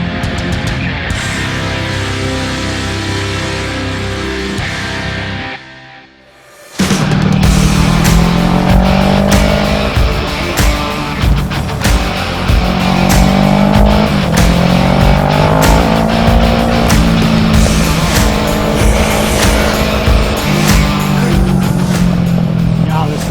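A 2017 Kawasaki Z650 motorcycle rides over a rough road, its engine droning loud and steady with rising and falling pitch as it accelerates, following a brief near-silent dip early on; wind and road noise fill the background.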